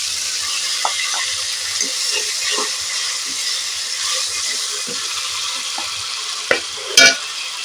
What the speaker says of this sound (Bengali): মশলা ভাজা হয়ে গেছে আমি এবার একটু হালকা করে জল দিয়ে দেবো এই মশলাতে